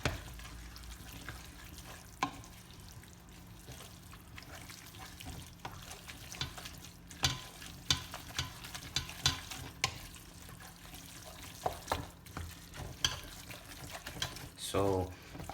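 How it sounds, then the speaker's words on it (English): Enchilada sauce is stirred into meat in a pan with irregular spoon clacks and scrapes over a quiet background hiss, growing busier toward the end. "you just stir it. Mix the sauce with the meat."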